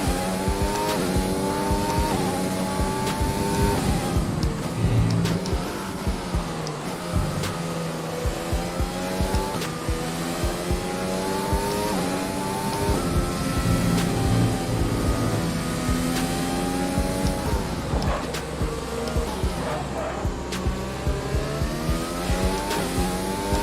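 Formula 1 cars in the F1 2020 game, engines howling and shifting constantly with rapid up and down pitch sweeps, another car closing and passing nearby amid repeated gear changes and occasional tire noise, loud and continuous without talk.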